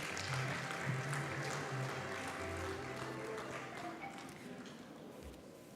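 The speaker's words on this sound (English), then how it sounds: "Round of applause for him as he comes up." Steady applause from a crowd at the Uganda National Journalism Awards, continuous and moderately loud, slowly tapering off toward the end.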